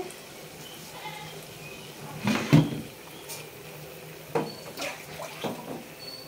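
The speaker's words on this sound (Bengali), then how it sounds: "আর একটু জল দিয়ে দিলাম, জল কম হয়ে গিয়েছে।" Water is poured into a pot of cooking rice whose water has already heated up, giving a couple of short splashing bursts over quiet kitchen background with faint voices.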